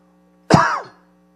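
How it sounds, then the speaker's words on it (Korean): A church preacher lets out a single sharp cough, close and loud, decaying quickly into silence against a faint steady hum. "제가 기침을 하는 이유가 있어요."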